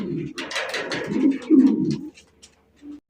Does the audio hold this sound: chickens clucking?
no